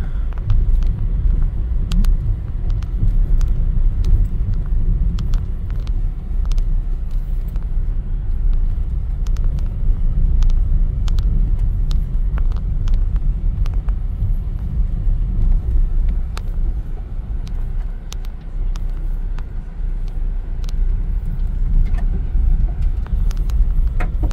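A car drives slowly along a rough, unpaved mountain road, with a steady low engine rumble and crunching tire noise throughout and scattered sharp clicks and knocks as it rolls over stones.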